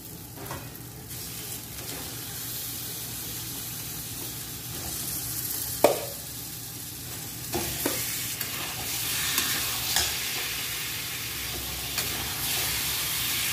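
Mutton pieces frying in a cooked-down spice paste for a Bengali mutton curry, a continuous close sizzle with a few sharp scrapes and clanks of a spoon stirring against the pan.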